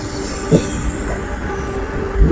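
A train rumbles steadily nearby at night after leaving Vijayawada, with low mechanical drone and occasional louder clanks from the wheels on the track.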